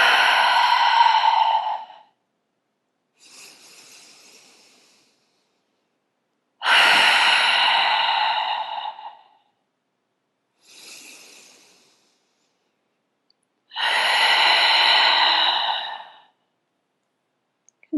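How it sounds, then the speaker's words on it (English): Three slow, deep breathing cycles close to the microphone during a grounding hatha yoga hip-opening session: a soft inhale through the nose followed each time by a long, louder airy exhale through the mouth. "taking 3 final grounding breaths as a class. In through the nose and out through the mouth."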